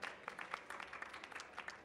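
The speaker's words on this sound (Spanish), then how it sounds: "Le damos un fuerte aplauso a la Mabel." Audience applause welcoming a panel speaker at a cultural conversation event: dense, fairly faint clapping from a small crowd with steady rhythm throughout, no voices over it.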